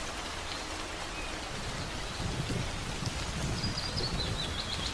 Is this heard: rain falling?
yes